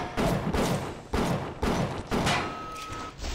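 Turret gunfire in a video game, five or six sharp bursts in quick irregular succession, loud and close, with a faint tone near the end.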